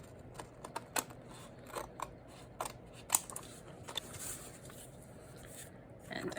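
Scissors snip through a paper craft page in a string of short, crisp cuts spaced irregularly, close and fairly quiet against a soft room background.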